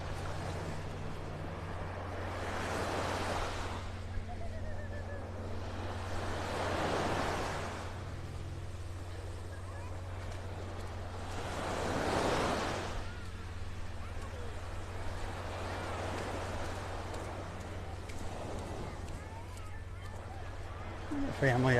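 Ocean waves roll onto Vanderbilt Beach in North Naples, Florida, a soft surf wash swelling and receding every few seconds over a steady low hum, with voices talking over it.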